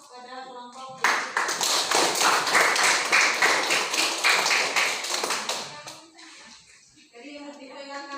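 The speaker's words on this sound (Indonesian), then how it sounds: "jadi kita beri aplaus pada kelompok" A classroom of students applauds a group of classmates, a burst of quick, bright claps lasting about five seconds, close and fairly loud, with children's voices chattering faintly before and after.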